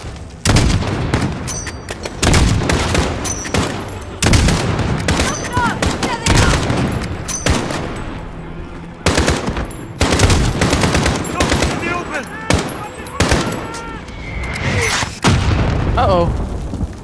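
Gunfire and mortar blasts in the Call of Duty: Modern Warfare video game on PC: dense bursts of rapid automatic fire and heavy booming impacts, loud and almost continuous, with voices shouting over the battle.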